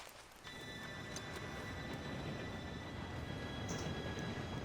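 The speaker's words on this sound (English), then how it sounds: "Train should be here any minute now." In a video game, a train rumbles in with a steady, swelling roar of rolling wheels that starts about half a second in and fills the soundscape with a faint high whine on top.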